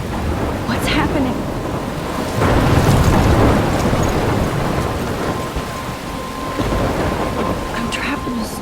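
Thunderstorm in the video game Life Is Strange: heavy rain pouring steadily while deep rolling thunder rumbles and swells, with brief crackling strikes layered over the downpour.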